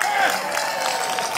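Crowd at an outdoor pops concert opening ceremony at Edison State College shouting back in a sustained, broad roar of voices and cheers that holds steady throughout.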